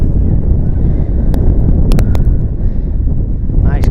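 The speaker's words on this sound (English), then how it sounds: "Nice gust of wind there." A strong gust of wind buffets the microphone at an outdoor 7th grade football game, a loud continuous rumbling roar that lasts throughout, with a few faint sharp clicks over it.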